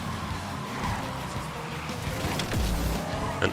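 A C-class BMW race car from the Asphalt Legends video game drones with a continuous engine sound, joined late by tire squeal and skidding, with no talking.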